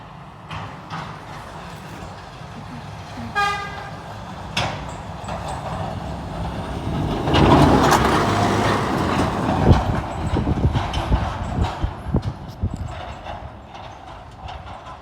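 A town snow plow truck rumbles past on a winter road, growing louder toward the middle as it nears, with scraping and clanking over the low drone before fading.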